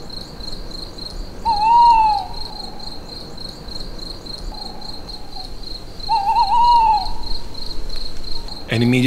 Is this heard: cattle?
no